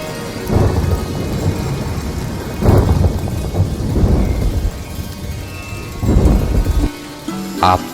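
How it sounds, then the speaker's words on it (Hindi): A rain shower hisses steadily, loud and close, while deep rolling thunder rumbles build and fade about four times. "मन के मयूर का न्योता सुनकर देखिए आ पहुंची रिमझिम बारिश की"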